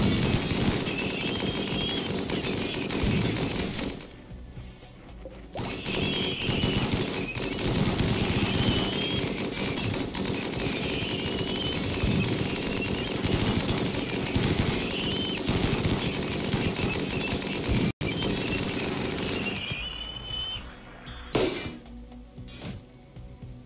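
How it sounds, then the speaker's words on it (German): Rapid gunfire from a RimWorld battle with HE grenades in play, dense bursts of shots and impacts running loud almost continuously, with short breaks and a sharp crack near the end. "Das war ein guter Schuss."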